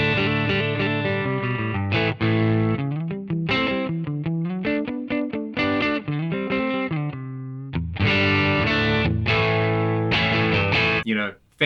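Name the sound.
electric guitar through Fender Deluxe Reverb reissue amp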